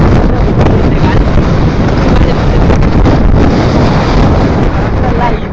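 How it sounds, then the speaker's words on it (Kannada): On Sagaru Hills near South Bangalore, a strong gale hits the microphone as a loud, unbroken low roar with rolling gusts, while a person talks partly buried under it. "ಬರೀ ಗಾಳಿ ಬೀಸ್ತಿದೆ"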